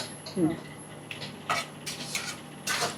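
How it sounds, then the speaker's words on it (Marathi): Cashews sautéed in a pan for rajgira kheer: scattered metal clinks and scrapes of a spoon stirring against the pan, with a faint sizzle underneath, in irregular bursts close by. "त्याच्यामध्ये आपण थोडे काजू परतून घेऊ"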